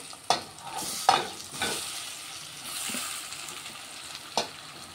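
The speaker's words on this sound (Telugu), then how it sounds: "ఇప్పుడు ఇందులో కట్ చేసుకున్న టమాటాలు వేసుకుందాం." Cut tomatoes dropped into a hot pan for tomato rasam, a brief sharp sizzle bursting up and then settling into soft steady frying with a few spoon-stirring knocks.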